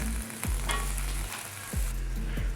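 Chopped eggplant tossed into a sizzling tomato mixture in a pan, a constant loud sizzle with a low hum beneath and a few spoon scrapes, close and alone.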